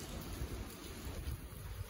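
Rain falling steadily with low rumbling noise, a constant soft hiss and patter that stays even and fairly faint throughout.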